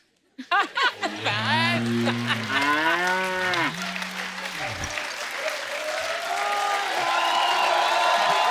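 On a TV comedy show, a voice imitates a buffalo with a long, wavering, drawn-out moo, then a studio audience breaks into loud, sustained applause and laughter.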